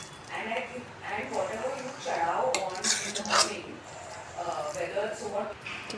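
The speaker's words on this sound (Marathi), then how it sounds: "भाजी आपली इथे मॅश करून झाले" Boiled vegetables for pav bhaji are mashed in a pan, a repeated rhythmic clatter and scrape of a metal masher against the pan, close and moderately loud, with a person talking over it.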